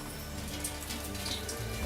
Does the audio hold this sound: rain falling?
yes